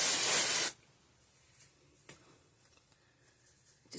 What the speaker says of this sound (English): when you get that root spray, L'Oreal, or any kind